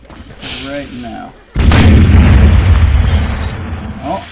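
Loud booming flintlock gunfire erupts after a quiet stretch of speech, a sustained burst of heavy shots and rumble from a Roblox game, close and dense.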